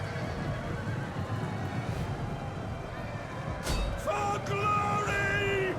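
Horses neighing amid cavalry combat in the Total War: Rome 2 strategy game, a sharp whinny cutting through steady battle noise, followed by further horse calls and hoof clatter.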